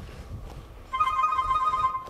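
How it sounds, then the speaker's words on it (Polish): A mobile phone rings with a steady electronic tone that starts about midway through and repeats without pause over faint background rumble, at an airport or station on a journey home from Greenland. "O, telefon, ciekawe, kto do mnie dzwoni."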